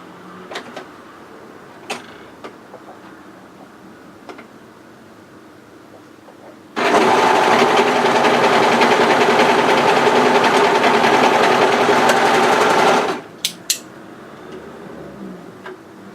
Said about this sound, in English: we can overlock through those 3 layers like that and hide the seam